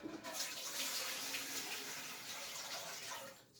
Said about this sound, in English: it says to put 2 liters of water in.